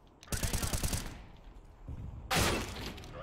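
Gunfire in a competitive online shooter match: a rapid burst of shots up front, then a second loud sharp burst a moment later, with a brief voice-like murmur between.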